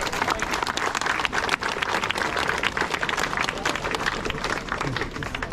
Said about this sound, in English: Do we get a round of applause for all the volunteers?